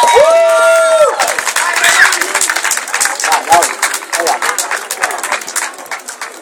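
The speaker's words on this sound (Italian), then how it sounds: "Un grandissimo applauso!" Audience applause and cheering at a cosplay award ceremony, dense sustained clapping from a crowd, loud and close throughout, with voices talking over it.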